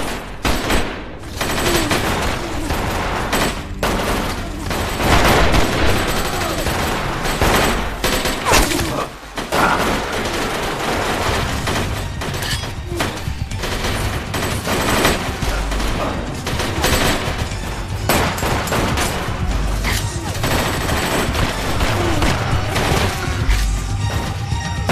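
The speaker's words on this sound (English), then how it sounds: "Who is shooting that?" Loud, continuous gunfire from an action film: dense bursts of automatic weapons and crashing impacts fill the whole stretch, with a brief dip near the middle, as a battle rages on.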